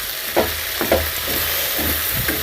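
Sliced okra sizzling and frying in a home kitchen pan, a steady hiss with a few brief stirring scrapes, close and fairly loud, no voices.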